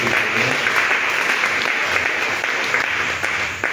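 A church congregation at a women's session applauds loudly and steadily, with dense sustained clapping that fills the whole stretch and blurs into a continuous roar.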